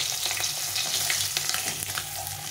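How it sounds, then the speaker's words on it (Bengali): A large fish head fries in oil in a pan with a dense, continuous crackling sizzle, plus light stirring scrapes throughout; no talking. "মুড়োটা একটু ভাজতে হবে"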